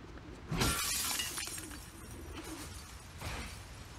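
Glass shattering in The Last of Us Part 2, a sudden bright crash and scatter of shards, followed by a softer second burst of breaking glass, with bird chirps faintly in the background.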